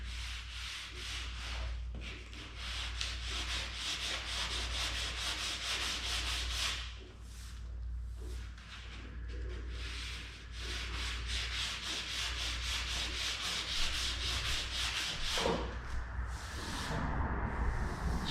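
Steady abrasive rubbing of a sander working on the body of a NOMAD vehicle, continuous and close, with brief pauses and changes in stroke but no talk.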